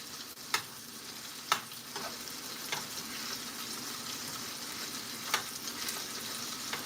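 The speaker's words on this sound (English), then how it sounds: "Keep that nice and sizzling." Steak searing on a hot burner, a steady broadband sizzle with occasional sharp pops and crackles, close and fairly loud with no voices.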